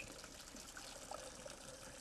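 Pasta water is poured off into a sink in a home kitchen, making a faint, steady gush and splash that runs without a break.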